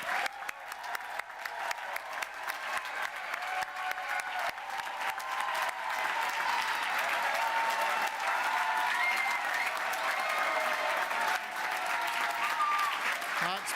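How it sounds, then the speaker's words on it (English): Audience at a University of West London graduation ceremony gives graduates sustained applause and cheering, a dense wash of clapping that swells and holds steady throughout. "Let's have a really big cheer for all of those graduates."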